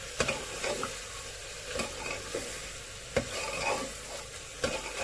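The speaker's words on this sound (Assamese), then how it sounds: "মাজতে চুৰিত লাৰি দিছোঁ এবাৰ" Meat frying in hot oil sizzles steadily while a ladle stirs it, with sharp scrapes and knocks against the pan every second or so at close range. No one speaks.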